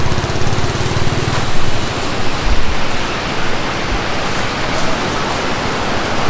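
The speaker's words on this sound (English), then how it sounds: "Here's the far shot of the falls." Waterfall at Cascade Park in New Castle, Pennsylvania, heard from a distance as a steady, broad rushing roar of falling water that stays even and unbroken throughout.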